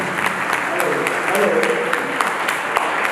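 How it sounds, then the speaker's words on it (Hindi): Audience clapping to welcome a speaker at a Hindi-language commemorative event, a steady burst of hand claps from a hall crowd with some voices mixed underneath. "जोरदार ताली बजाकर एक बार स्वागत करें।"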